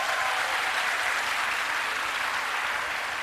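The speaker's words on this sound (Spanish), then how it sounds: "Un aplauso." Sustained applause from an audience at a book fair talk in Latin America, dense and steady throughout with no speech over it.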